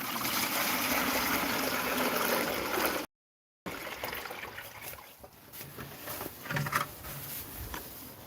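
Water splashes and trickles steadily into a farm animal trough during evening chores, broken by a brief gap, then continues pouring and gurgling with a few louder splashes.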